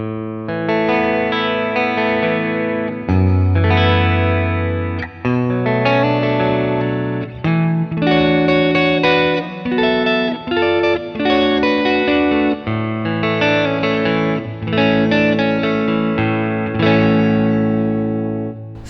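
An electric guitar through a HeadRush Prime multi-effects unit on an almost-clean Fender-style amp setting plays chords and melodic lines, slightly effected with some reverb, continuous and prominent with no talking.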